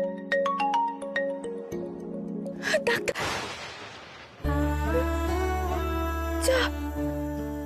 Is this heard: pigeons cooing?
no